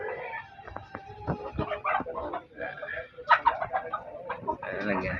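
Rhode Island Red chicken and other fowl clucking and calling in a backyard coop, several short bursts and chatters at moderate distance, with a person talking intermittently over them.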